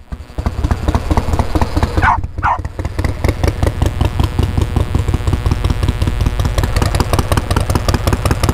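A Harley-Davidson Evo motorcycle with a sidecar idles close by, a loud, uneven potato-potato beat thumping steadily, with a dog barking twice partway through.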